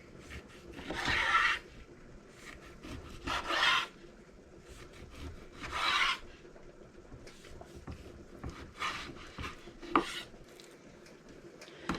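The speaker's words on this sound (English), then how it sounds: "see how this slices. We're going to do 1-inch cubes." Sharp 7-inch Santoku knife slicing pork into one-inch cubes on a board, soft repeated rasping cuts in short bursts with small taps between, close and fairly quiet.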